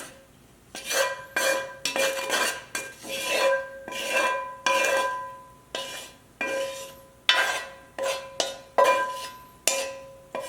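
Shallots go into a pan and are stirred, giving a series of sharp utensil scrapes and clanks against the metal, each followed by a short ringing tail, in an uneven rhythm, close, with no talking.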